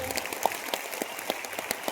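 An audience claps at a public gathering in Surat, a dense rush of many hands slapping at once, loud and continuous through the brief moment.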